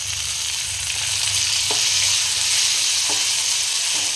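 Onion and tomato fry in a pan with a loud, continuous close sizzle, broken by a few light taps of a spoon as the mixture is stirred.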